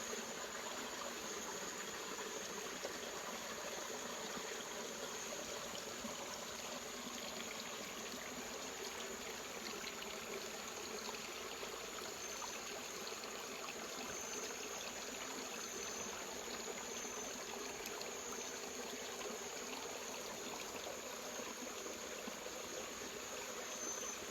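Steady rushing of flowing stream water, continuous and even throughout, with a bright hissing trickle and no voices.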